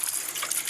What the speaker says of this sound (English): I'm going to pour some acetone in here